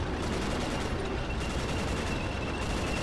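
Units shooting in the video game Supply Line Defence: a steady wall of dense gunfire and rumbling battle noise, loud and continuous for the whole stretch, with no voices.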